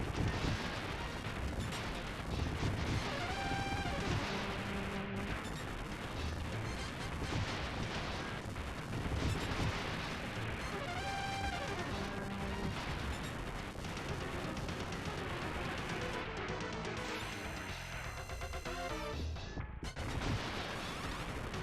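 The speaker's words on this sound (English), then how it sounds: "Captain, enemy gunfire!" Dense, continuous combat audio from the SNES game Cybernator, with rapid gunfire and booming explosions layered over a driving soundtrack, loud throughout.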